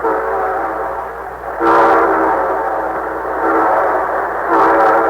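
A train horn blows in long, sustained chord-like blasts, loud and close, swelling again in a second pull over the rumble of the train.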